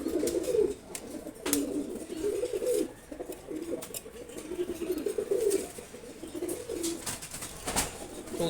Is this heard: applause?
no